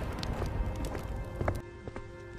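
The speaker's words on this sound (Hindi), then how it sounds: "लखन जल्दी जल्दी अपने घर की तरफ दौड़ता है।" Quick cartoon running footsteps as a village man hurries home before the rain, a rapid run of light taps over soft background music, fairly close.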